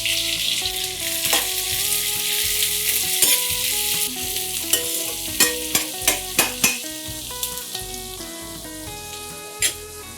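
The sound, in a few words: cumin seeds, bay leaves, chillies and sliced onions frying in oil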